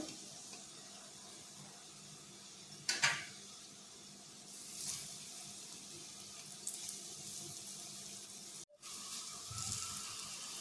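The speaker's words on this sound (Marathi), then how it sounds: "आता आपण दुसरी कापं टाकून घेऊया वरती तव्यावर." Raw banana slices fry in oil on a hot griddle, giving a steady close hiss with a sharp louder crackle burst early on and softer swells later.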